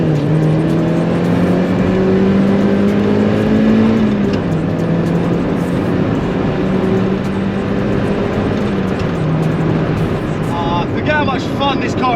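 Mazda Miata on the road, its engine droning steadily with shifting pitch as it drives, loud and close throughout, with a speaking voice over it.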